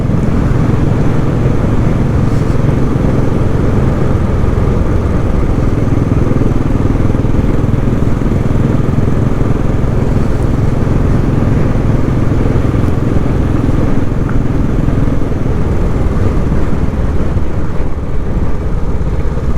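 A Royal Enfield Classic 500 motorcycle rides along twisty country roads in Essex, its engine a loud, steady low thrum with wind rush throughout and no pauses.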